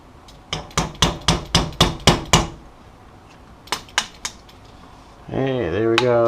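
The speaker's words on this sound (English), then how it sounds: "Just knock that pin out." A hammer taps sharply, knocking a pin out of a Dominion Arms DA50 .50 BMG rifle: seven quick blows, a pause, then a few lighter knocks, followed by a short burst of speech.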